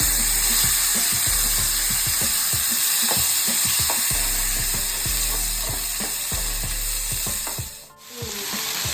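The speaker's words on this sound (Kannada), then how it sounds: "ಅದು ಸ್ವಲ್ಪ ಫ್ರೈ ಆಗಿದೆ" Boiled corn kernels fry in a pan with a loud, steady sizzle and many quick scraping and tapping stirs. Near the end the sound briefly drops away and then resumes.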